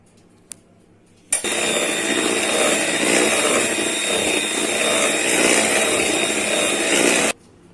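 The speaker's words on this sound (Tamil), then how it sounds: "மாவை கொஞ்சம் கொஞ்சமா போட்டு மிக்ஸ் பண்றேன்." An electric mixer whirs loudly and steadily through eggless honey cake batter as flour is added little by little, starting abruptly and cutting off after about six seconds, with a faint click beforehand.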